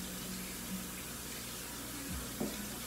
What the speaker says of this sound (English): The tap water is still running, by the way